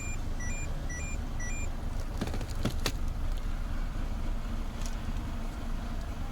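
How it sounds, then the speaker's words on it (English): Peugeot 407 engine idling, a steady low hum with a few metallic clanks and rattles in the middle, while faint high beeping tones sound near the start. "the pump is working as the engine is running"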